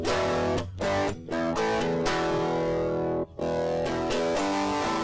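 A Digitech iPB-10 pedalboard runs an electric guitar through several distortion settings, giving loud, sustained distorted tones. Brief dropouts break the sound as the effects switch from one to the next.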